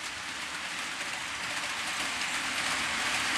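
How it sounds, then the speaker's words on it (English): Steady, continuous rumble and hiss of model railway trains running on a layout's track, with a faint rattling texture throughout and no voices. "So trains are now running at long last,"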